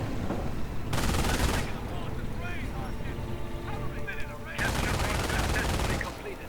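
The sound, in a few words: gunfire on engineers in a World War II strategy video game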